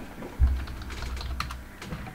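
Computer keyboard typing in a coding session, soft rapid key taps with one heavier thump early on, close and unaccompanied by speech.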